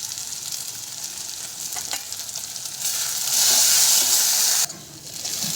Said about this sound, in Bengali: ভালো করে মশলাটা ভেজে দেবো।